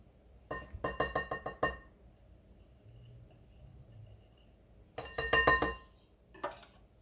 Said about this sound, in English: I'm just mixing some flour, baking powder, a bit of salt and sugar.